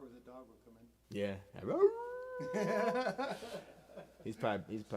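Dog howling and whimpering in drawn-out, rising wails, close by, with a person talking around it.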